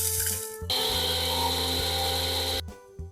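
An electric grinder whirs loudly and steadily for about two seconds as it grinds roasted masala spices into powder for a Sri Lankan prawn curry, then cuts off sharply, with brief motor noise before and after.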